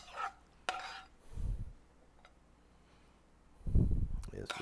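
A serving spoon scoops grits from a pot for New Orleans shrimp and grits, giving a few sharp, brief clinks and scrapes between spoken remarks.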